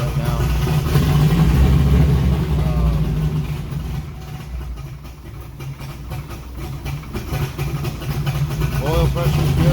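An airboat engine fitted with a Holley EFI Sniper idles lean with a steady, rumbling low drone that swells and dips slightly, while a person talks over it nearby.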